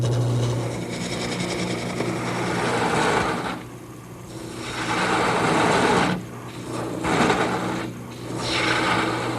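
Wood turning on a lathe with a small gouge beading over a rib down to a cove for a turned bed post: a loud, close, steady scraping whir with a low motor hum, broken by brief pauses as the tool lifts off.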